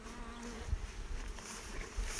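Dense, steady buzzing of many honeybees close by at a hive, a continuous hum with faint low bumps underneath.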